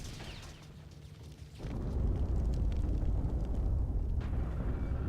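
A deep, sustained rumbling explosion roar from Max Payne 2 that swells and stays loud, after a brief quieter stretch, with a crackling burst near the end.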